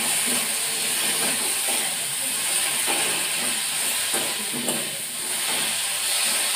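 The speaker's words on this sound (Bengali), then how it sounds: "সব কিছু দিয়ে নাড়াচাড়া করতে লাগলাম।" Sugar stirred into a frying cauliflower and potato curry: a loud, steady, close sizzling hiss fills the whole stretch, with faint stirring scrapes and no voices.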